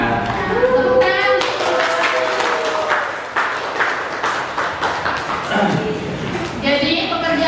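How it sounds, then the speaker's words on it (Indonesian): Students in a classroom clap together for a presenting group, a dense patter of hands under voices that keep talking and calling out through it. "Tepukan."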